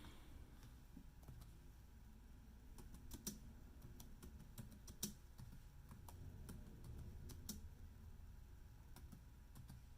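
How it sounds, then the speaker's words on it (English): Typing on a computer keyboard during a live stream, quiet irregular key clicks in short bursts with a few louder taps, close by and with no talking. "I'm gonna type something in the chat."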